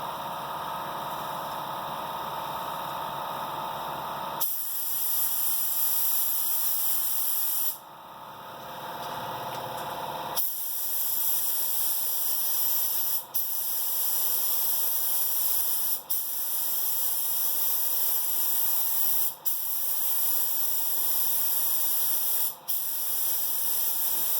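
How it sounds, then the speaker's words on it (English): A spray gun hisses in long continuous passes while painting VW Kombi panels, steady and loud, with brief breaks and tone shifts between strokes; no talking. "Just make sure you stop spraying before you get to the end"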